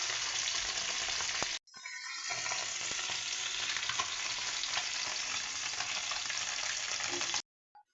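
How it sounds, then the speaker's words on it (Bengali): Taki fish, a spotted snakehead, fries in oil with a steady, loud sizzle close by. A sharp gap breaks it briefly near the start, then frying and light stirring continue until the sound cuts off near the end. "টাকি মাছটা ভেজে নিচ্ছি।"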